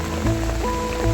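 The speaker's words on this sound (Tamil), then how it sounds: "நல்ல மழைங்க." Heavy rain falling in a forest, a steady dense hiss of water with a faint tonal hum running through it and no voices.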